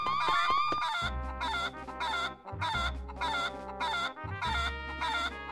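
Loud video game chicken from Four Swords Adventure, giving a steady run of clucking, crowing bursts over background music, close and continuous with brief gaps.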